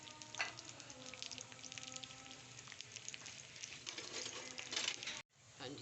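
Chopped onions frying in hot oil in a pan over high heat for arvi masala sabzi, with a continuous crackling sizzle close by and a brief dip near the end.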